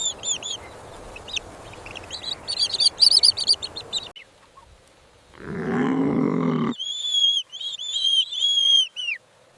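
Newly hatched emu chicks chirping, a cluster of thin high peeps and trills, loud and close at first, then a brief low rumbling noise before the chick calls return alone.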